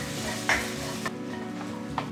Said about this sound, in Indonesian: aku akan masak telurnya ini sekarang